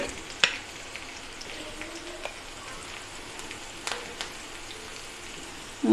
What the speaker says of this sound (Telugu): కొద్దిగా ట్రాన్స్పరెంట్ అయ్యే వరకు ఫ్రై చేయాలండి